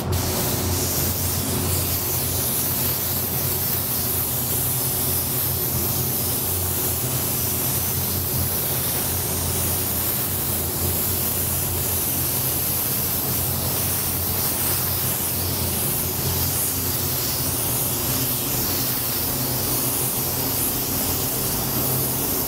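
An aerosol spray can hisses steadily and closely for a long continuous stretch while a first coat of paint goes onto a powder-coated wheel and its center cap, with no talking.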